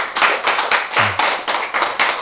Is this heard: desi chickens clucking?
no